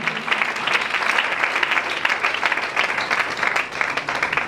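A church congregation applauding together, a dense, loud, continuous wash of clapping hands filling the room without pause.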